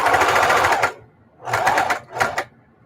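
Sewing machine stitching a mitered quilt binding, three loud close bursts of rapid steady needle chatter with short pauses between them, no talking.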